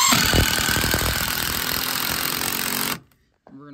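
A power driver shoots screws into wood at a sawmill, a loud continuous whirring and rattling burst that stops abruptly, followed by a short pause and a faint voice.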